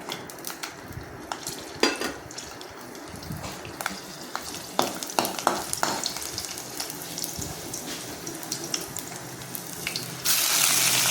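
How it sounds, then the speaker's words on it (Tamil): Garlic frying in a kadai for a gongura chutney, a soft crackling sizzle overlaid by scattered clinks and scrapes of a utensil against the pan, with a brief burst of running water near the end. "பூண்டு போட்டு நல்லா பொரித்து எடுத்துருக்கணும்."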